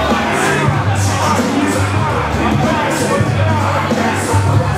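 Dense, loud crowd roar at a wrestling show, a steady wash of cheering and whooping voices with rising swells, continuous throughout with no single voice standing out.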